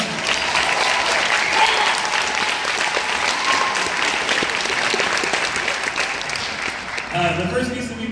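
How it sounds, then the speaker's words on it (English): Sustained applause from a high school concert band audience, a dense wash of clapping that holds steady for about seven seconds before thinning out and fading near the end. "Give them another round of applause."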